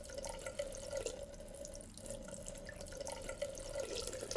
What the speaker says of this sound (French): J'ouvre le robinet. L'eau commence à couler.